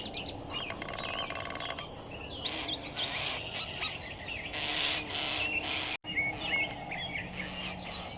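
A bird calls with short, bright chirps near a small garden pavilion, scattered through a steady outdoor hiss of insects and rustle, moderately close with no talking.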